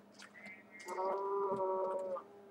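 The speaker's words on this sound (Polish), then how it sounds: "Ale są, są krowy." A drawn-out, tonal moo from a cow in the video game Minecraft, fairly close and clear, rising over a quiet background and lasting about a second and a half.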